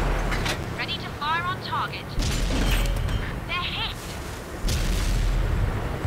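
Tank cannons boom in World of Tanks, with several heavy shots and deep rumbling blasts mixed with game sounds, while people talk over them.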